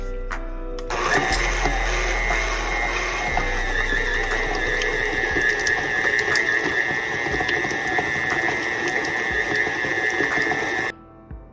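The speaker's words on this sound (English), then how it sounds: "my butter in my KitchenAid till it's light and fluffy" A KitchenAid stand mixer creams butter, starting up and then running with a steady whirring motor hum and gear whine that stays loud and close for about ten seconds before cutting off.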